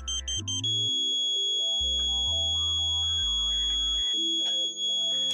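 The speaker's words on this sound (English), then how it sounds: "Very slowly, until you hear the continuous tone." A satellite finder meter sounds while a dish is being aligned, giving a steady high electronic tone that holds through the clip, with shifting lower electronic tones underneath.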